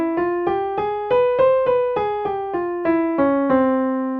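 A piano plays the Double Harmonic Major scale, about fourteen evenly spaced single notes climbing up and then back down, clear and close with no voices.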